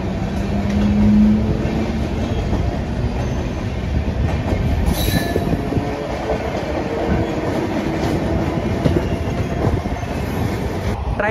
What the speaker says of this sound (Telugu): అటుపక్క ఏదో ట్రైన్ వస్తుంది